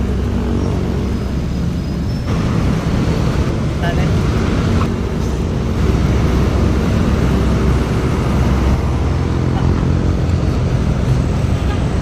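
Steady roar of road traffic on a Philippine highway in Pangasinan, heard from a moving vehicle, with rumbling engines and wind noise throughout and a brief spoken word.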